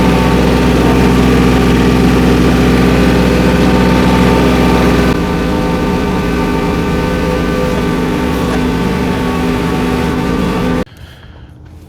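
A tractor engine, carrying a heavy bin on its front loader, runs steadily with a deep low rumble, a constant near drone that shifts slightly midway and cuts off sharply near the end, with no talk over it.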